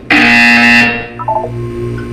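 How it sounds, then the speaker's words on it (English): A loud electronic buzzer in Portal 2 sounds once in a steady harsh tone for under a second, followed by quieter electronic blips and hum. "You will hear a buzzer."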